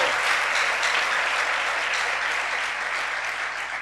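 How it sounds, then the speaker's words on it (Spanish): A church congregation gives a sustained, even round of applause during a sermon, a dense wash of many hands clapping together that fades only slightly toward the end. "Démosle un aplauso al Señor"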